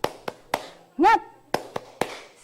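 A rhythmic spirit clap from a morning class session: sharp, close hand claps in a patterned beat, broken midway by a short rising vocal whoop.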